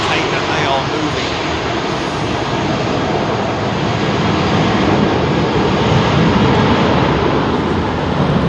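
An airliner moving at London Heathrow Airport gives off a loud, steady broadband engine roar from close by, with a voice talking over it.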